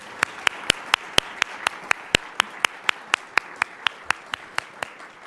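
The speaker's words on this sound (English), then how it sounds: "Let's give them all a round of applause." Crisp, evenly timed hand claps beat about four times a second over a soft, wide wash of crowd applause at a downtown civic gathering, staying steady and fairly close throughout.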